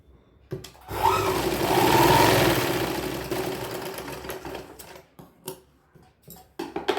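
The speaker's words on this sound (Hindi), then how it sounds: "हम दोनों साइड के क्रॉच लेंथ को सिलाई कर लेंगे" A sewing machine stitches the crotch seams of a child's sharara in one steady whirring run lasting a few seconds, framed by short clicks and handling sounds before and after.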